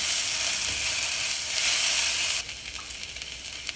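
Food sizzles and fries steadily in a kadai over a medium flame, a close, loud hiss that drops suddenly to a quieter crackle partway through, with no talking.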